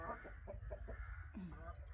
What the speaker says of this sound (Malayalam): കോഴി ചെവിയിൽ വന്ന് കൂവി ഇതാ കോഴി